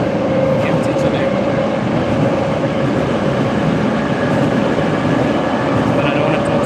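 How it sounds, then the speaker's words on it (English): Moscow subway train running at night, a loud steady rumble with rattling wheels and a tonal whine that persists throughout, carriage noise filling the whole span with no pauses. "Subway is really empty today."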